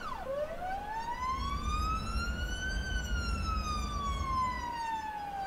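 A police car siren wails in the Cities Skylines video game, one long, steady rise and fall that stays moderately loud throughout, alone with no talk.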